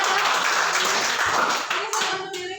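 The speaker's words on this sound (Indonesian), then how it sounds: "Oke, tepuk tangan untuk kita." A classroom group claps hands together in a short burst of close, fairly loud clapping that tapers off, with a voice briefly audible near the end.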